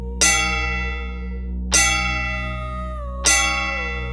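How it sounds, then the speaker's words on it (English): A funeral gong is struck three times at slow, even intervals, each stroke a bright metallic clang that rings on with a long, shimmering decay over a steady low hum. "And then, the funeral gong sounded."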